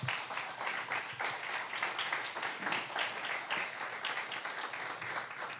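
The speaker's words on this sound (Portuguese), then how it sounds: "dá um grande aplauso ao Senhor" A church congregation at a worship service gives loud, sustained applause, a dense continuous wash of many hands clapping together throughout.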